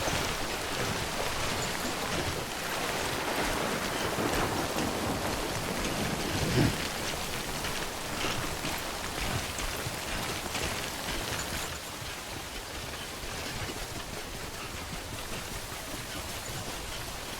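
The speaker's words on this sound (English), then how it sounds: "Don't stay out in the rain any longer than you have to." Timefall rain pours steadily in the game Death Stranding, a continuous hiss of drops spattering on surfaces with no pauses, loud and close, and nothing else rising above it.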